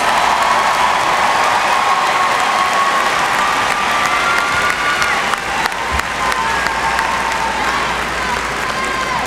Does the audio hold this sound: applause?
yes